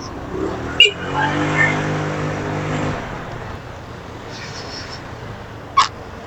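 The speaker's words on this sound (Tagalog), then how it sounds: "Traffic jud kayo ni lugar." Cars pass on a road in Dipolog City, with a steady engine drone and a passing vehicle swelling and fading, plus a couple of sharp brief clicks.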